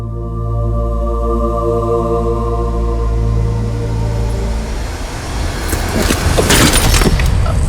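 A car's engine hums steadily at a low pitch while the vehicle drives, then the sound shifts and gives way to clattering, rattling noises as it comes to a stop.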